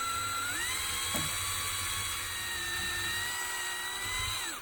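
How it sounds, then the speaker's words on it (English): A small drill runs in one continuous high-pitched whine as it bores holes in a model car body. It is close and steady, its pitch shifts slightly near the start and end, and no one speaks. "Okay, so holes are now drilled."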